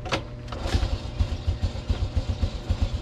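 A carbureted motorcycle engine idles to warm up, running without the choke, with a close, rhythmic low-pitched chugging pulse and light mechanical clatter throughout.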